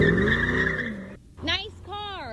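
A stolen Ferrari Purosangue skidding in a car chase, a loud sustained tire squeal with engine tone, followed by a voice talking over the scene.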